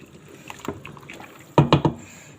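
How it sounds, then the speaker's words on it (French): Lentils and potatoes are stirred in a cooking pot, soft scraping and sloshing followed by three louder wet knocks of the spoon near the end, close by with no talk. "Et je mélange."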